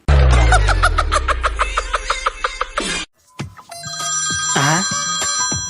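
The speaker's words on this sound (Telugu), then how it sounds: "ఎవర్రా ఫోన్లా?" A telephone bell rings in rapid repeated bursts for a few seconds, then stops and soft laughter and chuckling follow.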